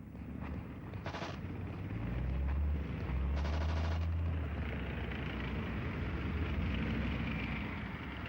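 Gunfire during multinational military manoeuvres, a couple of short bursts of shots amid a continuous loud rumbling din of vehicles and battle noise, no voices.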